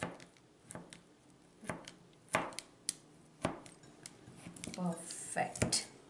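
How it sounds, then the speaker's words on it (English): Cooled burfi being cut with a knife: several sharp, separate chops and clicks against a board, fairly close and moderately loud, with some quiet rustling and handling between strokes. "we can cut it either with a pizza cutter or some knife"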